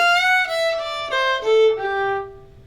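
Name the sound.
Irish fiddle tune with slide ornament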